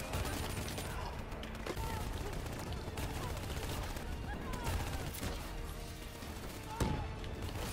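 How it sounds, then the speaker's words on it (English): A swarm launcher firing nanobots in a video game makes a dense, continuous crackle of rapid shots and bursts that goes on throughout, with a louder impact near the end. A voice talks over it. "Hit him with a swarm launcher. Yeah, eat my nanobots"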